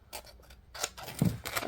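A few short crisp snips of brand new scissors cutting EVA foam, close and quiet, spaced irregularly over under two seconds.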